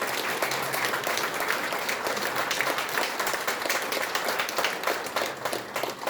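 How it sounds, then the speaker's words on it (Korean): A hall audience at the opening ceremony of a VR memorial hall claps in steady, dense applause that holds at an even level throughout, close and continuous with no voices over it. "앞으로도 많은 지원을 기대하면서 한번 박수 쳐주시기 바랍니다"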